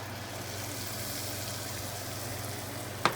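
A steak sizzles on a hot pan as a quiet, even frying hiss, with a single sharp knock near the end.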